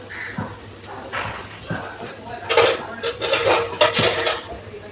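Crunchy homemade chanachur is tossed and stirred in a metal kadai over low gas, starting with light scraping and then breaking into loud, rapid rattling bursts as the mix is shaken.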